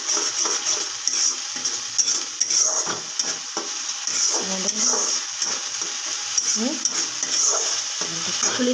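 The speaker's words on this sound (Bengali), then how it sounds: "এইবারে আমি এটাকে ভালো করে কষবো যতক্ষণ না এর থেকে তেল বেরোয়" Masala paste sautéed and stirred in oil until the oil separates, with a steady close sizzle and recurring scraping of a spoon against the pan throughout, alone without talk.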